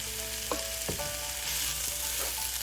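Chicken breast with Kashmiri red chilli powder sizzles steadily in a pan, while a spoon scrapes through it in a few distinct stirring strokes over the continuous hiss.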